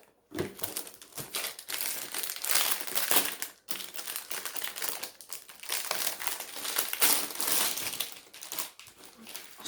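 Packaged 40x60 diamond painting kits from Action are unwrapped, with close, loud plastic crinkling and crumpling in bursts separated by brief pauses.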